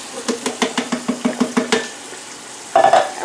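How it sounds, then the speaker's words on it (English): Canned red kidney beans being drained, a quick run of about ten evenly spaced metallic taps and clunks, close and fairly loud, followed by a pause and a short splashing rush. "We're draining some white red kidney beans to go in our taco salad."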